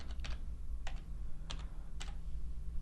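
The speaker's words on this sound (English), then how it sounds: "I'm going to type in David" Fingers tap out a short word on a computer keyboard. Soft, close key clicks come in small clusters of a few presses spaced about half a second apart over a quiet, low room hum.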